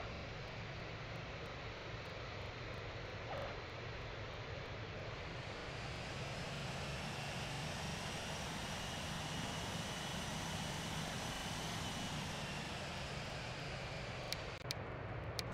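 A Delta Airbus A330 airliner landing fills the space with a continuous heavy roar of engines and rushing air, close and constant, ending in a couple of sharp clicks; no one speaks.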